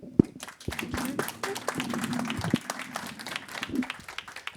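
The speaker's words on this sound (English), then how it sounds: "Let's have an applause." Sparse audience applause at an investment panel on water, individual claps standing out over a low murmur of voices, with a sharp clap near the start.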